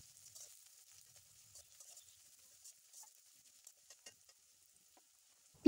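One cup of chopped onion fries in hot oil for a Bogura-style potato curry, a steady faint high sizzle with scattered soft pops and a sharp knock at the very end.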